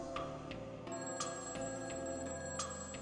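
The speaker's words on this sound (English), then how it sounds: "I heard my phone ring." A telephone rings in the video game A Summer's End: Hong Kong 1986, faint repeated ring bursts over a steady ambient music bed, with no talking.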